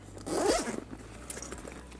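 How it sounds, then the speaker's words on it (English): The front compartment of a TOM BIHN Tri-Star backpack is zipped shut with one quick, close, raspy zip, followed by faint handling rustles. "I'm gonna zip that up."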